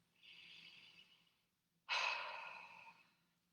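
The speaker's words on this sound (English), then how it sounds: "reminding yourself to take a big belly breath, like right now" A slow, deep belly breath: a long inhale lasting over a second, a short pause, then a louder, fuller exhale that fades out gradually, close and alone with no talk.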